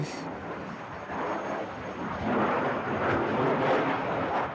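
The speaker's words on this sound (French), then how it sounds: "Un Rafale de l'armée de l'air." A Dassault Rafale fighter jet of the French Air Force flies over Orly airport, its engine roar swelling from a moderate rumble to a louder sustained rush, with no talk.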